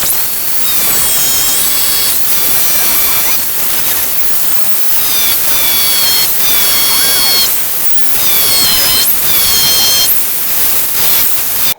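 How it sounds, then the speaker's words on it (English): An angle grinder cuts into the trunk lid of a 1968–72 Pontiac GTO, a loud, steady, hissing metal-cutting whine that rises and dips in pitch over about twelve seconds with no talk. "I'm going to use my grinder. So I'm going to cut this and see how it fits."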